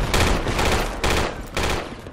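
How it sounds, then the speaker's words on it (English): Dense, loud video game gunfire during a firefight breaching a mosque, with overlapping rapid shots and bursts in close succession that sound near and continuous. "They're shooting out the window left."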